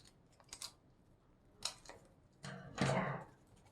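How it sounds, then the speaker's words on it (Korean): Pinking scissors cut a paper cup into petal edges for a carnation craft, making a few separate crunchy snips that build to a louder, fuller cut near the end, close and without speech. "핑킹 가위를 이용해서 우리가 이렇게 오려줄 거예요"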